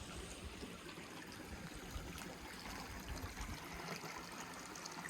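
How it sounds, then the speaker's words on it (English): A small stream bubbles and trickles through Umbrawarra Gorge, a soft, steady wash of running water like a little waterfall, faint and continuous with no voices. "listening to the water bubbling away"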